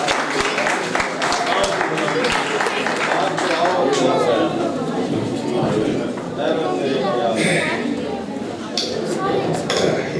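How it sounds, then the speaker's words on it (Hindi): Audience at a Pakistani mushaira poetry gathering applauding to welcome a poet, a sustained close wash of clapping with scattered voices in the crowd. "भरपूर तालियों से इस्तकबाल कीजिए जनाब गुलाम मुस्तफा मुगल का"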